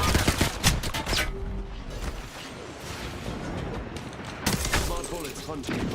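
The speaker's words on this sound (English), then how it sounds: "Smart bullets hunting foes." Smart-bullet gunfire in the Apex Legends shooter: rapid bursts of loud shots crowd the opening seconds, ease into a quieter rumble, then a fresh volley cracks out near the end.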